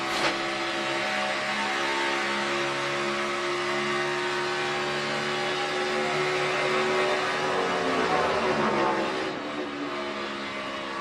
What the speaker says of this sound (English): Picking the throttle up, pretty early.